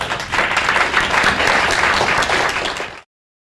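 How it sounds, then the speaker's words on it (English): Steady, fairly loud audience applause for a panel at a conference session on innovation and globalization, continuous for about three seconds and then cutting off abruptly. "And another round of applause for our panel, please."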